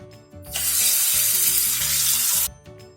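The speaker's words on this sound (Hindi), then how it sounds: "हरी मिर्चों को धोने के लिए हम इनको एक खुले बर्तन में डालते हैं और इसमें पानी डाल देते हैं" Water gushes steadily into an open bowl of green chillies for about two seconds, a bright hissing splash that starts and stops abruptly, with faint handling noises around it.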